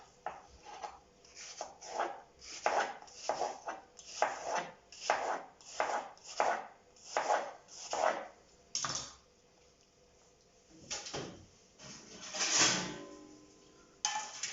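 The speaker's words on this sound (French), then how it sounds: "Il n'y a plus qu'à découper la pomme" A knife chops through an apple on a board, sliced for a thin puff-pastry tart: a close, steady series of about a dozen crisp cuts in quick rhythm, a short pause, then a few final heavier strokes.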